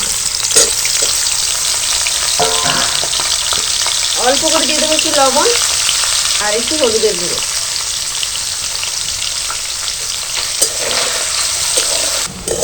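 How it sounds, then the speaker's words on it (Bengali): Paneer pieces fry in white oil in a wok with a loud, continuous sizzle and occasional stirring clatter, while someone talks briefly partway through. "এবার যে পনিরগুলো রেখেছিলাম সেগুলো হালকা একটু ভেজে নেব।"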